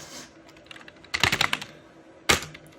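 Keys on a computer keyboard are struck in a quick close-up flurry of clacking presses, followed after a pause by one sharp final keystroke against a quiet room.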